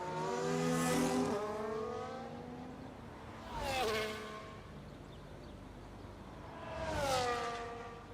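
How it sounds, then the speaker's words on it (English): Race car engine in a sim racing game at Monza, three separate passes of rising and falling whine, each swelling and fading with pitch shifts like gear changes, fairly faint over background hiss. "Downshifting to 5th, Osman is about to come across the line."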